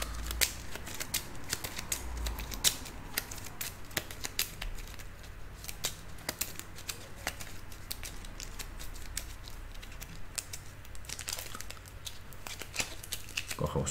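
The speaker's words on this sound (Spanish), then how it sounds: "Vamos a barajar las otras." Soft, repeated riffling and flicking of board game cards, close by, with scattered sharp clicks over a low steady hum.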